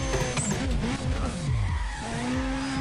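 Car in Need for Speed ProStreet sliding through a handbrake drift, loud tire screech and skidding over revving engine notes with sweeping pitch changes, close and continuous for about three seconds, no talk.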